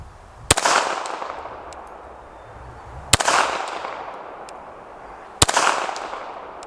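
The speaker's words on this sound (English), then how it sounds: "Let's see about 100-yard shots with a 380." Three loud, sharp pistol shots from a .380 Beretta Cheetah fired at an outdoor range toward a 100-yard target, spaced a few seconds apart, each followed by a long fading echo.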